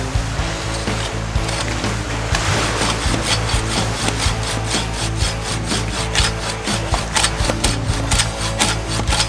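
A hand saw cuts through a thick log at a beachside campsite on the Tsutsuhama coast in Miura, Kanagawa, with loud, close, rhythmic rasping strokes, quickening partway through, over a low background rumble.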